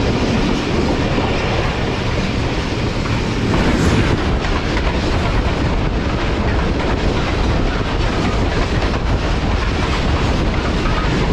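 Allama Iqbal Express train running between Lahore and Sahiwal, heard from inside an AC standard class coach: a steady loud rumble with rhythmic wheel clatter continuing throughout.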